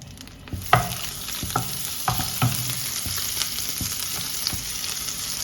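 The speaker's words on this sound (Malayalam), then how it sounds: "ഈ ബട്ടറിൽ ഉള്ളി വഴറ്റിയതിടുക." Sautéed onions hit melted butter for fried paneer butter masala, producing a steady sizzle punctuated by regular scrapes and knocks of a stirring spoon against the pan.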